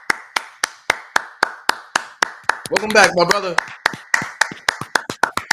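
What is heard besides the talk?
hands clapping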